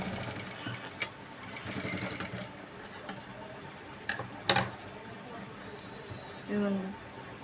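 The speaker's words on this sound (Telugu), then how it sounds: "చూసారు కదా నేను ఎలా అయితే స్టిచ్చింగ్ చేస్తున్నానో అలానే చేసుకోండి" A sewing machine stitching around the neckline of a work blouse, short bursts of rapid mechanical clatter separated by pauses, close by, with some faint voice in the background.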